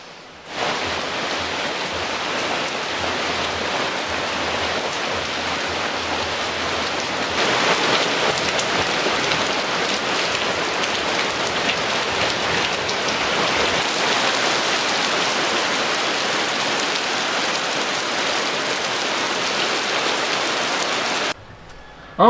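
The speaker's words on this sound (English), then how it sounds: "We had a lot of rain." Steady heavy rain pours down on a jungle forest in India, a dense, unbroken hiss that continues without a break from start to finish.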